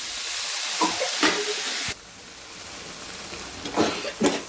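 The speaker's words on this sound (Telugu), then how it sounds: "ఇందులో టమాటా వేసి ఫ్రై చేయండి." Steady, loud sizzling as tomatoes fry in a pan for a mixed vegetable curry, with a few scraping stirs, then the hiss drops to a quieter simmer.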